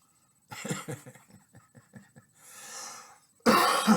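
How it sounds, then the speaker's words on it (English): A run of repeated dry coughs, followed by a breathy exhale and then one loud, harsh cough at the end, close and alone. "Sorry, I'm coughing."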